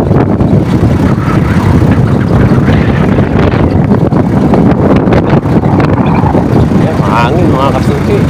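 Strong, cold wind buffets the microphone in a steady loud roar in an open area during a marathon run, with a person talking underneath it.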